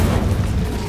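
Brief, loud whooshing burst of the Incendio fire spell in Hogwarts Legacy, a dense roaring flare of flame that holds steady for under a second.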